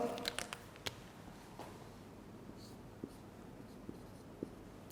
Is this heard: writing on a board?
yes